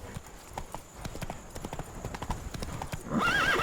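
Roach the horse galloping in The Witcher 3 video game, steady rapid hoofbeats clip-clopping close by, ending with a whinny.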